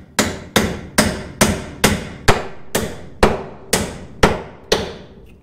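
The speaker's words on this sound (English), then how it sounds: "And then put nails in that should keep it in place." Hammer strikes driving nails into wooden fence posts outdoors, eleven sharp, loud blows at a steady, even rhythm, each ringing briefly before the next, with no talking.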